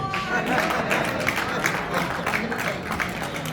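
Applause from a lecture audience in Cincinnati, Ohio, a steady wash of many hands clapping continuously, with a speaker's voice faintly under it.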